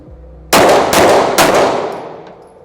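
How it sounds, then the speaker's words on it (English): Three sharp handgun shots ring out at an outdoor shooting range, each loud and close with a crisp crack and a ringing tail that fades slowly after the last. "I'm going to do a couple single-handed shots into a small target, aka the head box."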